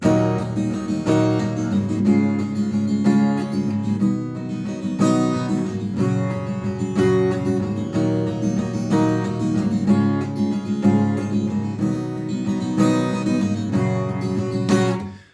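Strummed guitar chords ring out in a steady, full introduction to the worship song "Reckless Love", loud and continuous throughout, with no one speaking.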